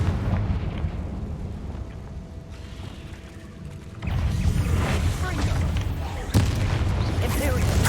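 A Confringo fire spell goes off in the Hogwarts Legacy game as a sudden booming blast, followed by a rumbling roar and one more sharp impact, with a voice speaking over it.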